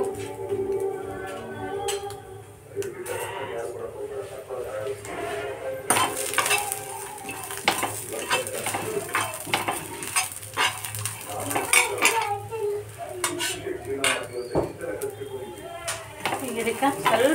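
Food frying in oil in a pan in a home kitchen during Nag Panchami festival cooking, a soft continuous sizzle under clinks of utensils and stirring scrapes, with a person talking over it.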